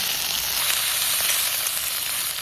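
Chopped ginger added to hot oil already frying coconut pieces, a close, even sizzle that hisses steadily for a couple of seconds with no voice over it.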